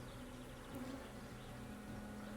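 Honeybees drone steadily at an opened hive during a spring inspection, a dense continuous buzz close by with a low hum running underneath, no one talking.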